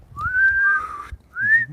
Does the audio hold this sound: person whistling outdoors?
yes